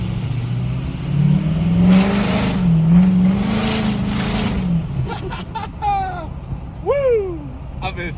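A high-mileage 6.0-liter truck engine revs with the windows down, a loud low rumble that swells and holds for several seconds, then eases off while other sweeping engine sounds and a voice come through.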